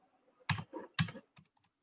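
A search term is typed on a computer keyboard, a short burst of several crisp, close key clicks in an uneven rhythm with quiet gaps between them, no voice.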